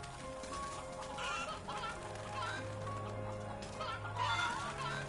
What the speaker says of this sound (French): Les poules, ça mange du grain.